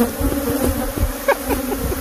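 Bees buzzing around a hive kept in an RV, a loud, steady close drone with individual insects passing near, without any speech.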